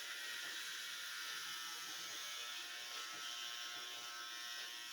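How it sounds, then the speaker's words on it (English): Continuous steady buzz of an electric shaver running over a head, close and even throughout with no pauses or talking. "I gotta shave my head at least once a week."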